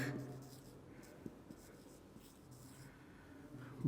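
Pen scratching out a math solution on paper or board during a Class 10 lecture, soft intermittent strokes and taps at a low level, with faint room noise and no speech.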